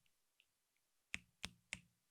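Three crisp finger snaps in quick succession, close and clear, after a few faint ticks in an otherwise quiet room; no talking.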